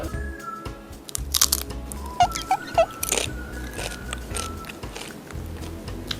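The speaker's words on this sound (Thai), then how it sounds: "ฟังเสียงเกี๊ยวกรอบกัน" Crispy fried wonton is bitten and chewed close up, giving several sharp, loud crunches and crackles in irregular bursts against a quiet background.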